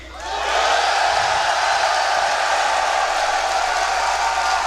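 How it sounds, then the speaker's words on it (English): A large esports crowd at a grand final between Na'Vi and Alliance, roaring and cheering for Na'Vi in a loud sustained wall of noise that swells quickly and holds steady. "I want to know who in the crowd is cheering for Na'Vi"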